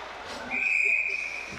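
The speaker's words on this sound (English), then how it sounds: "And that backhand ends up hitting the mesh, and a whistle is blown." A referee's whistle is blown during an ice hockey game between the Stettler Imperials and Coronation Royals, one sustained shrill blast of about a second over rink crowd noise.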